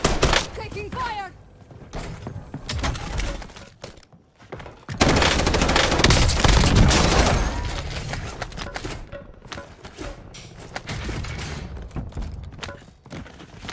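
Gunfire in the video game Warzone, bursts of rapid automatic shots and heavy impacts, with a long dense barrage in the middle, under a player's talk.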